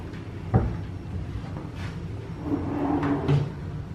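Cabinet doors being opened in a remodeled room at Disney's All-Star Movies resort hotel, giving a sharp knock followed by soft creaks and a second bump, close and moderately loud over room noise.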